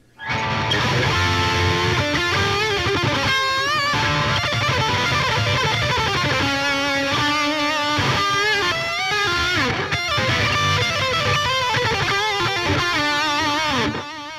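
Distorted electric guitar lead played through the JST Toneforge plugin with delay added, an improvised one-take melody with bends and fast runs over a steady loud backing, no voices.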